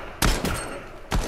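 Pistol shots in the video game Fortnite: two sharp cracks roughly a second apart, loud and close, with a quieter pop between them and no voices.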